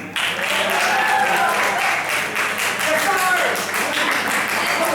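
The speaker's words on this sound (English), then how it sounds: "may we give a round of applause to Vivian Taundi" A round of applause breaks out at a Model United Nations conference as a judge is introduced, dense crowd clapping starting abruptly and continuing steadily, with voices and cheers mixed in.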